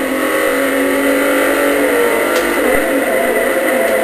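A race car engine in the racing video game Forza Motorsport 4 drones at a loud, steady high pitch for several seconds, with a faint brief thump partway through and no change in revs.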